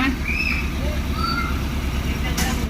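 A Honda FD car's engine idles with a steady low rumble throughout, after a month unused and with rat damage, with faint voices and a few high whines over it.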